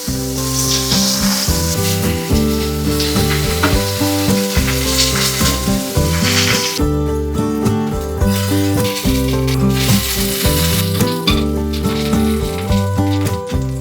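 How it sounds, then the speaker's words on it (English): Eggplant pieces frying in hot oil in a pan for pork binagoongan, a loud, continuous sizzle close up, with stirring rattles and background music throughout. "Repeat the process until you finish cooking all the eggplants."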